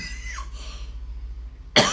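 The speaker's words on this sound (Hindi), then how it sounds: "सॉरी, खांसी आ गई।" A low engine hum runs underneath, then a single abrupt, loud cough bursts out near the end.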